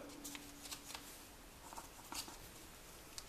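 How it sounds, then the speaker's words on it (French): Paper being folded into an origami fish: soft, quiet crinkles and light rustling taps scattered irregularly, close and faint, with no talking. "Ensuite, faites un pli qui va de là"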